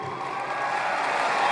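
A large audience at an AIPAC conference applauds and cheers for Benjamin Netanyahu, producing a dense, steady, loud wash of clapping that fills the whole moment without a break.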